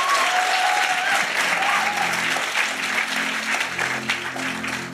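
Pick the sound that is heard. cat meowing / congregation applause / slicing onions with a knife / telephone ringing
congregation applause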